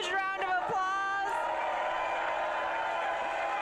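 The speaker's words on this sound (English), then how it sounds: "Let's give ourselves a huge round of applause" A crowd at a Los Angeles mayoral race event cheers and whoops loudly after a brief shout, and the noise settles into a sustained roar of applause and voices.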